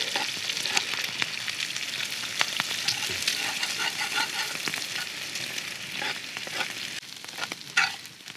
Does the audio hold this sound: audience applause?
no